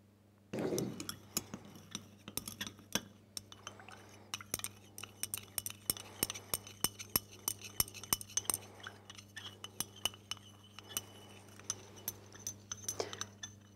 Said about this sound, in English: we just have to stir for about 2 or 3 minutes to make sure that we have a saturated solution